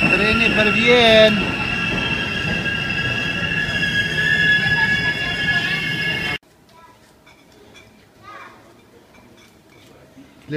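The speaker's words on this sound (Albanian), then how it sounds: "Treni për vjen." A train rolls past close by on rails, its loud rumble mixed with screeching wheel squeal, before the sound cuts off abruptly to quiet background with faint distant sounds.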